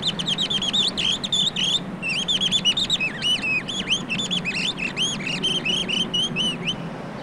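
A man imitates scolding birds with his voice, giving a rapid run of sharp, repeated high chirps in short bursts over a constant low rumble of traffic.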